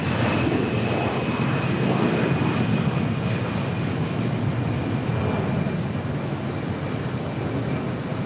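A jet taking off on runway 25 right at Los Angeles International Airport gives a continuous loud engine roar and rushing whine, steady and close throughout.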